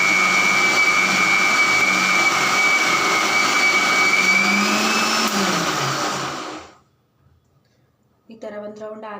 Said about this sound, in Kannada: ಈ ಥರ ಒಂದು ರೌಂಡು ಮಿಕ್ಸಿ ಮಾಡ್ಕೊಳ್ಳೋಣ.